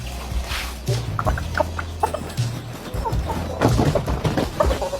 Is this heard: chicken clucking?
yes